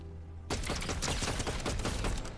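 Rapid burst of video game gunfire during a cheating player's tournament match, loud and dense with crackling repeated shots after a brief quiet lead-in.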